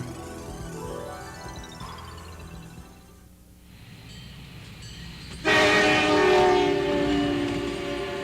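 A train on the Great Miniature Railroad and Village, a model of 1920s Western Pennsylvania, rumbles along with a horn-like tone, quietly at first, then much louder and brighter for the last few seconds.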